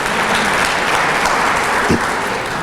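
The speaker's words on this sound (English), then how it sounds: "Let's clap for him anyway" A dense, steady wash of audience applause at a civic State of the Town gathering, filling the room evenly from start to finish with no break in the clapping.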